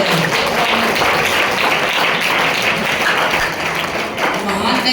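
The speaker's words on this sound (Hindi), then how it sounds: "जोरदार तालियों से इनका स्वागत कर रहे हैं।" An audience at a school children's assembly stage show gives loud, steady applause, a dense continuous roar of clapping lasting throughout with voices mixed in.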